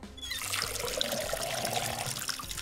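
Water pouring into a jug in the video game Schedule I, a steady filling trickle that starts abruptly and runs continuously, close and fairly loud.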